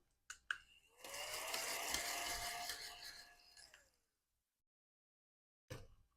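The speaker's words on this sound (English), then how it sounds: "let me get out my scratching tool, which is a fancy quarter" A quarter scrapes across a scratch-off lottery card in one steady, rasping stroke of about three seconds, close and fairly loud, bracketed by a couple of short taps.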